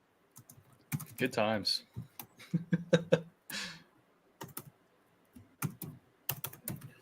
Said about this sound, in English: I'm typing something in the notes here